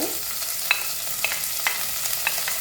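Onion, curry leaves and fenugreek fry in hot oil for mutton kothu, giving a steady bright sizzle close by, broken by a few sharp clinks of a stirring spoon against the pan.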